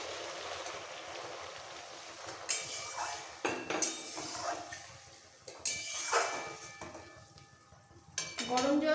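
Hot water poured into a pan of small-fish curry on the stove, a faint watery rush and hiss with clinks of utensils against the pan, followed by sizzling bubbling.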